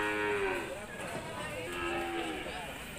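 Cattle moo in long, loud calls at a livestock market in South Kalimantan, overlapping with crowd noise and people talking nearby.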